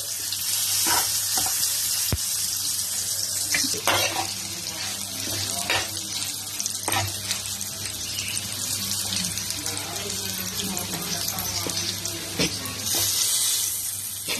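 Bitter gourd pieces fry in a pan with a dense, continuous hiss of bubbling oil, close and steady, with a few faint clinks and stirring sounds underneath.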